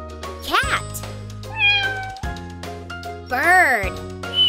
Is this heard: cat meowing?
yes